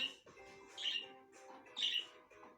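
A bird squawks harshly in short, raspy bursts, two louder calls about a second apart, close by and fairly quiet overall.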